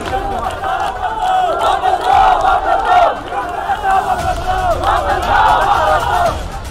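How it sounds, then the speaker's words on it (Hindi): A large crowd of BJP party workers chants slogans loudly and continuously during a street protest, surrounding an MLA's house in Dwarka, with voices rising and falling in a dense, close roar. "ये नारेबाजी, ये आक्रोश, ये प्रदर्शन, ये भीड़, ये भिड़ंत और विधायक के घर का घेराव"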